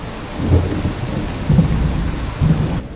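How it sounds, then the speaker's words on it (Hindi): Heavy rain pours steadily while deep rumbles of thunder roll in three swells. The downpour is loud and continuous, with no voices over it. "बारिश अब भी वैसी की वैसी तेज होती रहती है।"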